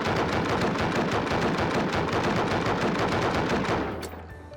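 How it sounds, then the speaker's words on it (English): Rapid, continuous gunfire from an automated turret in a video game, the shots packed close in a loud, even rattle that runs for about four seconds before cutting off abruptly and fading. "I can move it with my mouse and I can left click to single fire"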